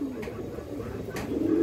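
A silver female pigeon, among pigeons kept for sale, gives soft low cooing calls close by, one at the start and another rising toward the end.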